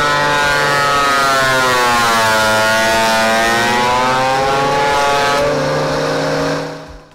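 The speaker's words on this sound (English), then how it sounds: "I'm actually planing some wood that I had glued together for a butcher block top desk." A Bauer portable planer runs loud and steady with a high whining drone and shifting tonal harmonics as it planes glued-up wood for a butcher block desk top, then winds down at the end.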